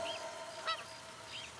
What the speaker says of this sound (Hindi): आवाज सुनो, चिड़ियों की आवाज